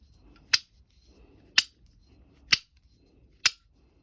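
A ratcheting box spanner clicks four times, close and crisp, each sharp click set apart by about a second, with quiet in between.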